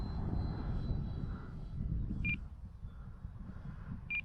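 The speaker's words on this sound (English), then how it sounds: "Haven't flown her in forever, so just kind of get a feel for her." OMP Hobby Super Decathlon RC airplane flying into the wind, its motor a steady low drone throughout at moderate distance, with two brief high beeps near the middle and the end.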